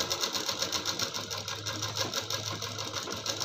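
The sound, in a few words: sewing machine stitching blouse neck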